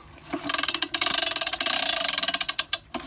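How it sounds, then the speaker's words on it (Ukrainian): A working hand winch is cranked, giving a rapid, even run of close ratcheting clicks that lasts a couple of seconds before slowing and stopping, with no voices. "Тут це крутиться. Лебідка працююча."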